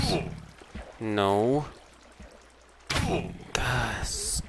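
Flowing water in Minecraft, a rushing pour heard in two or three bursts, loud and close, interspersed with a person talking and game sounds.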